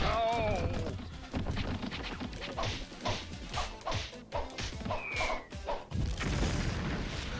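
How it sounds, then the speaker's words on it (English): Bombs exploding at random in The Simpsons Wrestling video game, a string of crashing booms and smashing hits across a busy game mix, with occasional whooshing swipes. "the bombs come at random"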